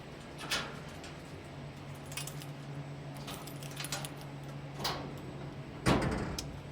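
Several short metallic clacks and rattles of a long metal museum specimen cabinet's drawers sliding and opening, spaced apart over a steady hum of air conditioning, with a louder clunk near the end.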